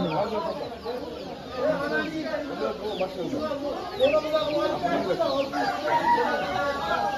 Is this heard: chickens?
yes